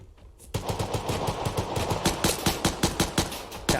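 A grease gun fires in rapid, evenly spaced bursts in the video game Vigor, a sharp, loud stream of shots that starts abruptly after a brief quiet moment and continues steadily to the end.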